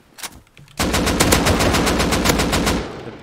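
Sustained automatic gunfire in a video game, a loud close burst of rapid evenly spaced shots lasting about two seconds after a few faint earlier pops.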